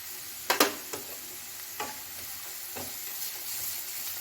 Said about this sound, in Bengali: ঠিক এই সময় আমি রসুন কিমা দিয়ে দিচ্ছি